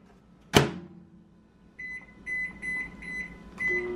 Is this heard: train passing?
no